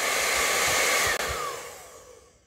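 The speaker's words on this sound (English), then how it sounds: "I'm gonna start up now and do my hair drying." Hair dryer blowing hot air to dry a section of carpet, a loud steady close whoosh with a brief dip midway, then winding down and fading out at the end.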